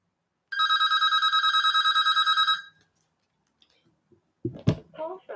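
An incoming call sets a telephone ringing in a steady, rapid electronic trill for about two seconds, loud and close. It cuts off, a few small clicks follow, and then a person starts talking.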